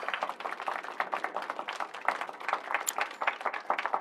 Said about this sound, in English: let's give our pianist a warm round of applause